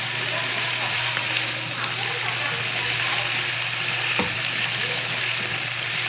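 Chicken hearts sauté in a pan for a simple chop suey, a steady, close, even sizzle of frying that runs unbroken throughout.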